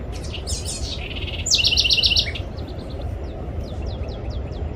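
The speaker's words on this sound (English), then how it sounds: "It sounds like a bird, eh?" Butcherbirds calling outdoors at Broadbeach, bright whistled and warbling phrases repeated several times, one loud close burst midway over steady background noise, with fainter calls trailing off.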